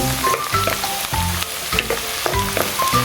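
Garlic, added after onion in a pan for Bicol Express, sizzles and fries steadily while a utensil stirs it, with repeated scraping strokes over the constant near hiss, no voices.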